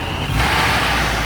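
Supercharged muscle car passing on a street, a steady loud engine roar with a brighter whistling whine rising over it partway through, brief and without talk.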